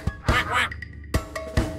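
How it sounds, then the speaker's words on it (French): Duck quacking in a children's animal rhyme, a few close, clear quacks in quick bursts with short gaps between them. "Le petit canard, canard, canard."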